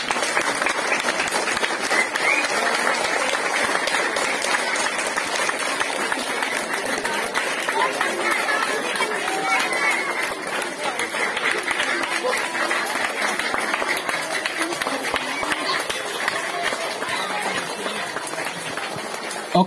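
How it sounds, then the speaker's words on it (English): Students at a Don Bosco school Teacher's Day event clap loudly and continuously for their teachers, a dense, sustained crowd applause with voices mixed in underneath. "Clap a little loud."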